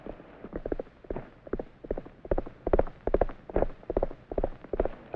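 Horse hooves clip-clop in a steady, brisk rhythm on a hard surface, close and clear, a run of regular paired strikes with no talk over them; the horse is the trick horse Trigger, ridden on the range.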